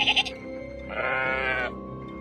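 A sheep bleats in two short calls, then a longer, harmonic, wavering bleat, close and fairly loud over a low rural background.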